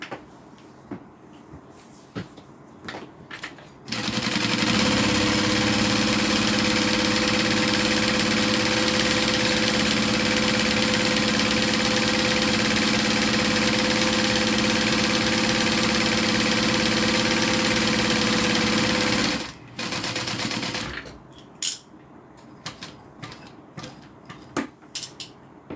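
An industrial sewing machine stitching a zip-around leather wallet runs in a long, steady, loud mechanical whir for about fifteen seconds, bracketed by quieter clicks and handling noises before and after; nobody speaks.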